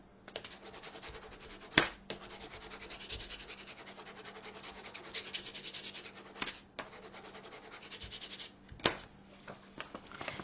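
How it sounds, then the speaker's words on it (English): Varnish brushed onto a handmade mini traveler notebook, soft close rubbing and scratchy strokes with a few sharp taps and knocks, no voices. "so we varnish this one down"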